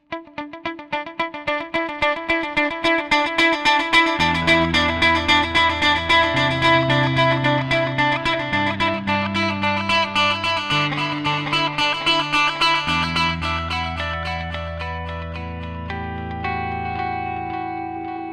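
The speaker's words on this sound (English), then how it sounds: "stereo delay clean tone. So it sounds something like this." An electric guitar with a clean tone runs through a Zoom G3XN multi-effects processor set to a stereo ping-pong delay, playing picked notes and chords whose echoes trail and overlap, sustained and clear with no voices.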